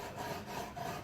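Short, rhythmic rubbing strokes of sanding on worn frets of a guitar during a setup, close and fairly quiet, with no voices.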